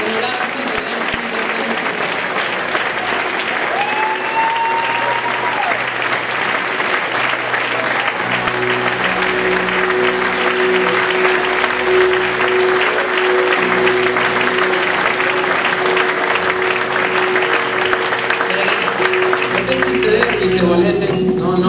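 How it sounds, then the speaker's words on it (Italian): A church congregation applauds in a long, steady wash of clapping that lasts about twenty seconds, while a tonal sustained sound rises underneath partway through. "Grazie Gesù, ti diamo questo applauso."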